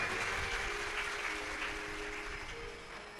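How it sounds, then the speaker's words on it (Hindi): A large crowd at a Shiv Mahapuran katha applauding loudly and continuously, a dense wash of clapping that fades slightly toward the end. "एक बार इनके लिए जोरदार ताली बजाएं।"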